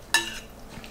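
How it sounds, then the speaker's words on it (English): A spoon scrapes and clinks once against a pot of pepper sauce for Belizean panades, a bright short stir followed by a soft, faint scuff, close by and with no voices. "Stir it up."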